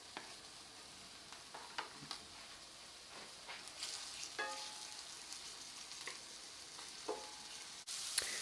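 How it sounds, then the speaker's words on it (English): Shallots sauté in a pan on the stove for a turkey burger topping, a steady soft sizzle with scattered clicks and light stirring scrapes throughout, no talking. "I'm going to have some sauteed shallots."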